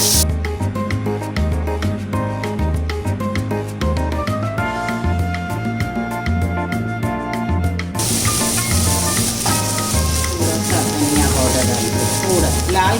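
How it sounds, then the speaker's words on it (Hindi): Chopped onion hits hot oil for a Sindhi besan sabzi: a loud, steady sizzle starts partway through and keeps going under background music. "अब हम इसमें डालेंगे प्याज।"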